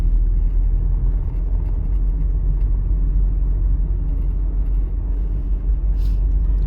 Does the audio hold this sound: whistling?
no